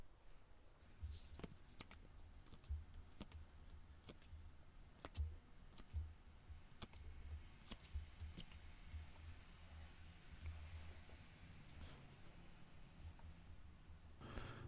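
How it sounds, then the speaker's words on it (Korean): Tarot cards shuffled and drawn by hand at close range: a quiet run of soft riffles, taps and sharp card snaps scattered irregularly across a hushed room, with occasional breaths. "제가 카드 뽑아 볼게요"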